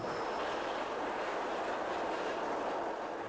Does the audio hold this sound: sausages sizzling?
no